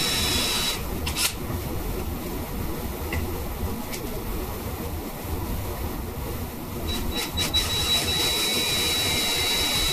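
A 5-inch hole being cut into the firewall of a custom Camaro: a loud, steady, rough grinding roar that runs without a break for the whole stretch, with a few brief harsher peaks.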